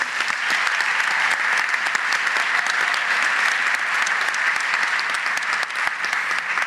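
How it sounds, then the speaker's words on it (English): A room full of guests at a scholars breakfast event applauds in a dense, continuous roar of clapping that stays loud and even throughout, with no voices breaking through. "Let's give them a round of applause."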